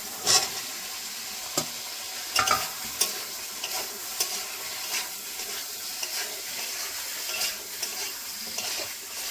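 Pointed gourd and potato pieces frying in cooked spice paste in a pan, a steady oily sizzle with a few sharp scraping and clinking stirs, close and fairly quiet, with no one talking.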